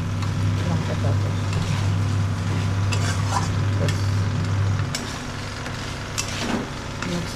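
Chili powder and salt are stirred into duck meat in a pan on the stove, giving a steady close sizzle and soft scraping over a continuous low hum that fades after a few seconds.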